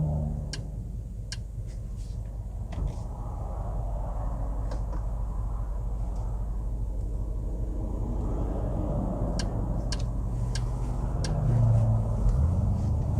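A 2020 Mercedes-AMG GLS 580 SUV driving in sport mode, a steady low engine and road rumble from inside the cabin, punctuated by faint rhythmic ticking clicks like an indicator.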